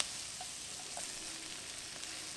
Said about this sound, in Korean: 양파 볶아줍니다. 어묵 볶아주세요.